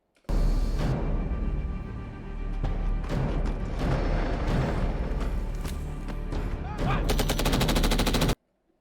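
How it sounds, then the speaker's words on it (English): Machine guns firing during a military exercise by British paratroopers and US airborne troops, loud bursts of rapid shots with short pauses between them, and a fast dense volley near the end before it cuts off. "Machine guns, let's go."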